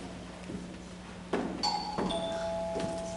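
A doorbell chimes in a few clear ringing tones during a high school drama club stage play, over a low background hum, fairly quiet and a little distant.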